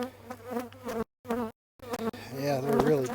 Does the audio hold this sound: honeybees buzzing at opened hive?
yes